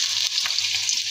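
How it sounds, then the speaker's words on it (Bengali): Chopped onions fry in hot oil in a wok for chicken haleem, giving a steady, loud, close sizzle throughout with no talk. "পেঁয়াজটা ভেজে নিব।"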